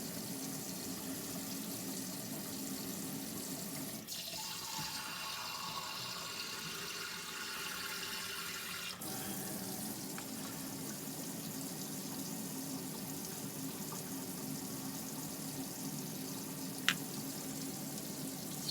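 Steady water running from a tap during a water heater temperature test in a NuCamp TaB 400 RV with an Alde heater, a continuous hiss that changes tone midway, with one brief click near the end.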